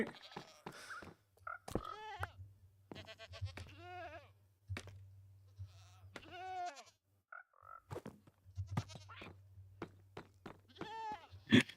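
Goat bleats from the Minecraft video game, a series of short wavering cries repeating at irregular intervals over a low steady hum, fairly close and clear.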